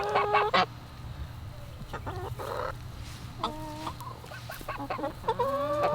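Chickens clucking in a garden pen, a mix of close, scattered squawks and clucks with occasional harsher honk-like calls over a low steady background.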